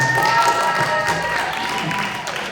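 Audience applause at a community town hall greeting the new mayor, a steady broadband wash of many hands clapping at moderate level across the whole stretch, with faint tones and crowd murmur underneath.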